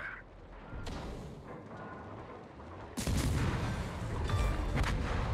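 Naval gunfire booms in World of Warships during a Russian destroyer match, with a heavy blast at about three seconds followed by dense, loud rumbling salvos.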